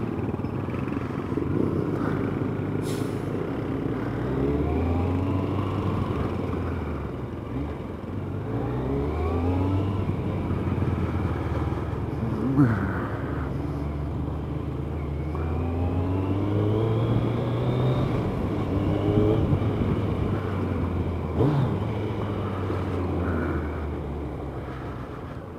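A Kawasaki ZZR1100 motorcycle commuting through traffic, its engine droning steadily with repeated rising revs and gear changes, passing vehicles and wind noise around it.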